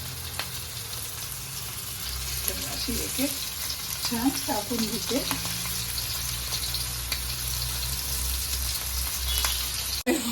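Tandoori-masala-coated prawns fry in oil on a tava with a continuous close sizzle, while someone speaks briefly partway through over the frying.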